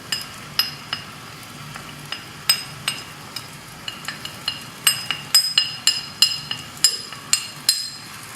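Coriander, turmeric and chili powder stirred in a pan for Kerala-style grilled fish, a close series of rhythmic metallic scrapes and taps that quicken toward the end over a soft sizzle.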